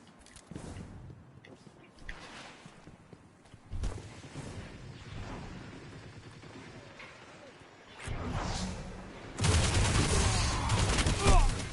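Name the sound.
machine gun fire in the video game Destiny 2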